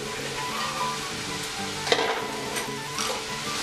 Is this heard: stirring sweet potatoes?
yes